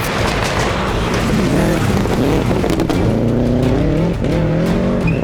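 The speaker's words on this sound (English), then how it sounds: "The battle of the GC8s is rounded out by Clark and Marin in the second Swap Shop car" A Subaru Impreza GC8 rally car engine roars loudly at high revs, gears shifting and pitch climbing, with gravelly tire noise throughout.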